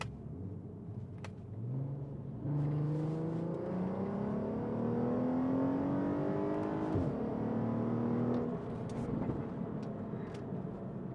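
A Skoda Superb with a modified 3.6L VR6 and a dual clutch gearbox revs up in rising pulls, its smooth engine note climbing in pitch with each quick shift, and a deeper surge at the end.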